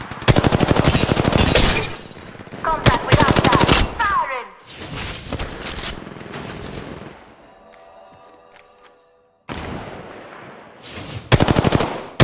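Automatic weapon fire in the Apex Legends Mobile battle royale game: dense, loud bursts of rapid shots in several volleys, with a quieter lull of game effects in between before more heavy firing returns.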